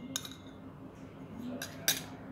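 A spoon clinks faintly against a bowl while aloe vera gel and almond oil are stirred together for a homemade face mixture, a few light metallic taps over a quiet background hum.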